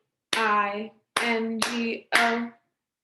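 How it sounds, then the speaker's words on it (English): Four sharp hand claps mark the rhythm of the BINGO song in a classroom lesson. Each clap comes with a sustained sung syllable, spaced unevenly, and the sound is close and clear against silence. "they're all clapping on time"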